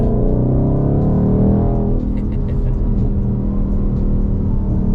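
A 2022 Mustang GT Fastback V8 with an automatic transmission accelerating, the engine note rising and holding high revs in gear, loud and close, with a throaty rumble.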